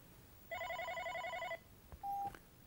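An incoming call rings on an OpenStage 60 SIP desk phone: one clear, near electronic warbling burst of about a second, followed by a brief single-tone beep as a button is pressed.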